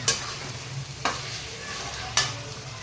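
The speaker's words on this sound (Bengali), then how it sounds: "এইভাবে আর কিছু সময় ভাজা করে নেবো" Chicken liver and gizzard frying with salt and turmeric in a pan, giving a constant soft sizzle broken by three sharp stirring scrapes spaced about a second apart, close and without any talk.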